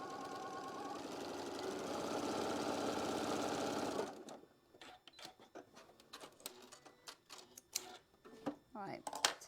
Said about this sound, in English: we'll go ahead and get this stitched down